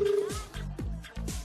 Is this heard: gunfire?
no